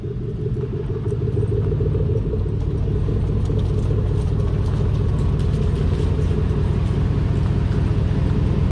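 A Chevrolet Silverado pickup truck driving and pulling over, giving a steady, loud, close engine rumble with road noise that continues throughout and no speech.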